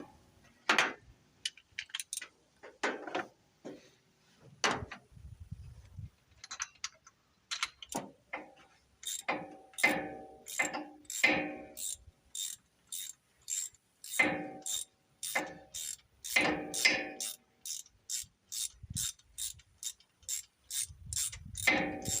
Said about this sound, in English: I forgot that extension don't like to come off that ratchet.